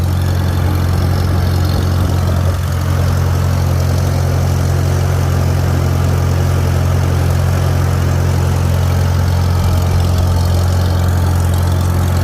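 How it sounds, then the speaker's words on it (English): A John Deere 5010 tractor engine runs nearby at a steady, loud idle, with a deep constant rumble and diesel clatter and no pauses. "Oh, sounding good. 5010 John Deere right there in the rear."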